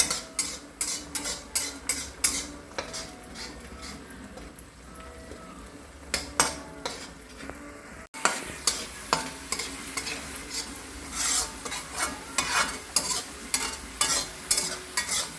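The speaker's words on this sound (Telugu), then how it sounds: "ఈ మొత్తం అయితే మనం తిప్పుకుంటా ఉన్నాం అడగంటకుండా" Chicken fry paste stirred in a pan to keep it from sticking: a steady run of scraping spoon strokes over a continuous sizzle, close and clear, with a brief cut midway and no talking.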